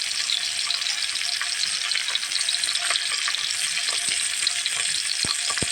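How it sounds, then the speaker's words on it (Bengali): Fish fries in mustard oil for a pumpkin-leaf bharta, a loud, continuous sizzle dotted with quick crackling spits, close and without talk. "এখন আমি মাছটা ভেজে নিচ্ছি"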